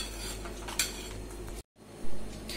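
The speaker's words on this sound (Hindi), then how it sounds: "अब हम इन सब चीजों को अच्छे से मिक्स करेंगे।" Mutton gravy with fresh cream stirred in a pan for an Afghani dish, with a few scraping metal-on-pan strokes and a brief clink, then a short silent gap before stirring resumes.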